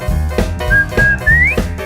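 A jazzy, R&B-style whistled melody from the Ed, Edd n Eddy opening theme rises and glides over a bouncy musical backing, clear and prominent.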